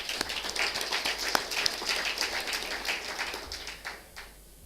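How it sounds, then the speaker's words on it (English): Audience applause at the close of a Magic Bus CEO's speech at the Next Step 2014 event, a dense patter of clapping from a crowd that carries on steadily and fades toward the end. "a round of applause for Laureus as well, please"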